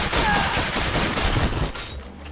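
Rapid bursts of gunfire from the co-op action RPG Full Metal Furies crackle loudly in quick succession, thinning out toward the end, with voices faintly underneath.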